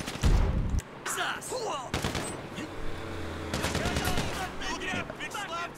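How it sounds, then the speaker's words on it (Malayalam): Gunfire and a grenade blast in the GTA 5 video game, a heavy low thump at the start followed by scattered rapid shots and impacts, with someone talking over the action. "നമുക്കില്ലേ ഒരു ഗ്രനേഡ് എറിയാം."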